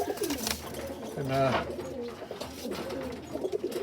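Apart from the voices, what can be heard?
pigeons cooing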